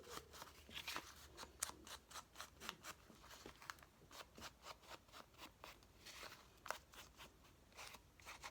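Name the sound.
scissors cutting material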